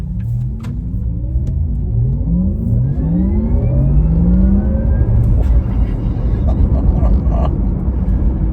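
Porsche Taycan 4S electric car accelerating, its rising synthetic whine sweeping upward in pitch over a steady low road rumble, loud and continuous throughout.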